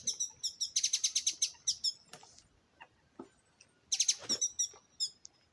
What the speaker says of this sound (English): Bird, bird, bird.